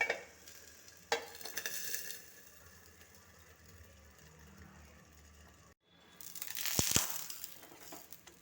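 Food frying in oil is stirred in a pan, giving a soft sizzle with scraping strokes, then a short pause followed by louder clattering spatula scrapes.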